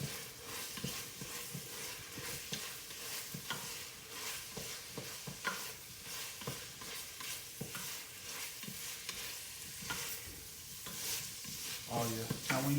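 Sausage sizzles softly in oil in a pan while a utensil stirs it, giving a continuous low hiss broken by frequent scraping strokes.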